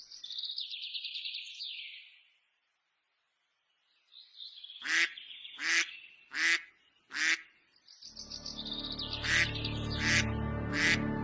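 Ducks quack in a series of loud, rasping calls close by, with a pause between bursts, before a steady rustling and clatter rises beneath them.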